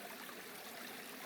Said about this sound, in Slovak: Je to takýto bočný slabotečúci potôčik, ktorý vteká do takého trošku väčšieho potôčika.